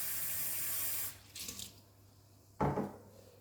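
Water from a kitchen tap runs steadily into a peanut butter jar to soak it, then cuts off, followed by a brief clunk and a sharper splash or knock near the end, all close by.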